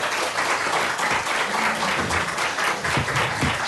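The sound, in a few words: audience clapping at a hearing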